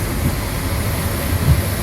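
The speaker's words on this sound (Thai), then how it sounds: "รถไฟวิ่งเรียบติดทะเล" A continuous low rumble of a passenger train, Thai train No. 43, running steadily nearby along the sea, with no voices.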